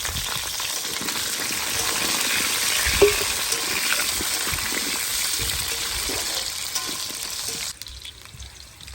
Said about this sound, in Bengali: বন্ধুরা তেলটা গরম হয়ে গেছে, আর আমি কিন্তু এবার আলুটা দিয়ে দেবো।